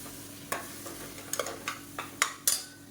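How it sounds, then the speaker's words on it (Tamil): Blended tomatoes sautéing in oil in a pan, a soft low sizzle broken by several sharp clinks and scrapes of a spoon stirring against the pan. "இதையும் சேர்த்துட்டு நல்லா எண்ணெய் பிரிஞ்சு வர அளவுக்கு நல்லா வதக்கி விட்டுக்கலாம்."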